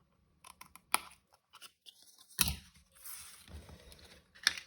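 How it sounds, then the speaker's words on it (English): Scissors cut through paper card with a few sharp snips and crisp crunching cuts, quiet and close, with gaps between strokes. "I'm going to use my scissors"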